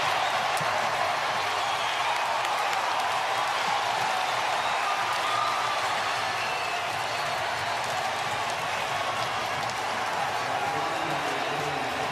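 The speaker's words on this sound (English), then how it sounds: "listen to the crowd in a 2-1 game" A big crowd roars at a College World Series championship baseball game between LSU and Florida in Omaha, a dense, constant, distant-sounding wall of cheering that holds steady throughout.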